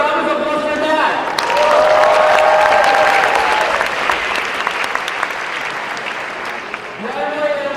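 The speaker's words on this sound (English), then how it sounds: "How about a round of applause for that?" An audience claps loudly and steadily in the United Nations General Assembly Hall at a 2017 youth leadership summit, with a speaker's voice over the start and the applause fading as talk resumes near the end.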